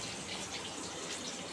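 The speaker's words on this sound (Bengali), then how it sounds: "এই যে এখানে ডাল ফুটছে" Dal simmers at a boil in a pot in a home kitchen, giving a quiet, steady bubbling hiss that stays even and unbroken for the brief moment heard.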